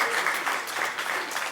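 An audience at a product launch event breaks into dense, steady applause, many hands clapping together close by for the whole stretch.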